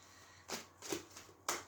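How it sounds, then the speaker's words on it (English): Tarot card deck being shuffled by hand, three or four quick riffling bursts separated by short pauses, close and fairly soft, with no talking. "So I'm just going to shuffle the deck."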